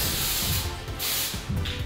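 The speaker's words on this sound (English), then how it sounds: "Now I'm gonna spray." Hairspray sprays onto hair for a 1980s hairdo in a steady, close, continuous hiss with short pulses from repeated presses on the nozzle.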